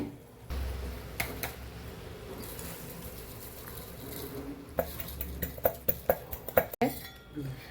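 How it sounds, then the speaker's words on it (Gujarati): Crumbled boondi is stirred into sugar syrup in a pan on a low flame, a soft scraping churn that turns into a run of quick metallic clinks and taps of the spoon against the pan. "હવે આપણે મિક્સ કરવાનું છે"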